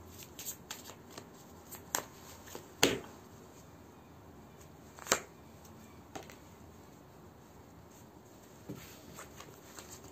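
A deck of cards is shuffled and cards are drawn for a football match prediction, heard as soft riffling with a few sharp snaps and slaps. The sound is close and quiet, with no talking.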